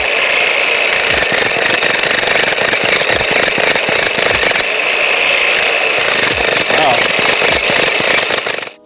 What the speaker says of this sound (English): So this is a Harbor Freight jackhammer.